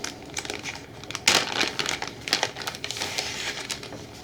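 Crinkly plastic wrap being torn and crumpled off a big pack of Alien: Fate of the Nostromo board game cards, with close, irregular crackles and a sharper rip partway through, no talking.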